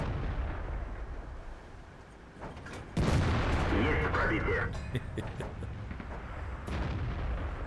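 In a tank video game, a tank's main gun fires one loud, booming shot over the low rumble of battle. A commentator talks over the action throughout.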